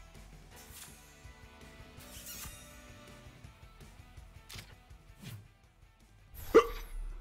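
A man hiccups during a livestream of the Knockout City video game. The sharp, isolated hiccup bursts are spaced seconds apart against a quiet background, and the loudest one comes near the end.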